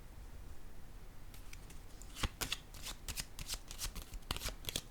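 Tarot cards being handled and shuffled during a card reading, quiet at first then a flurry of close, crisp riffling flicks and slaps as cards are laid down.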